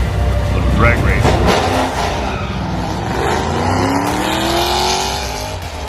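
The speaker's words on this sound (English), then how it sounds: "Little drag race." Ford Mustangs in a drag race roar off together, with loud, close engines and a brief tire squeal at launch, then rising revs that stay strong as the cars pull away.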